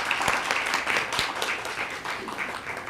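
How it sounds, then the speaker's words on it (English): Audience applause at a high school National Honor Society induction ceremony, a steady dense patter of many hands clapping close by for about three seconds, with no talk over it. "let's give our guest speaker another round of applause for coming to speak to the inductees"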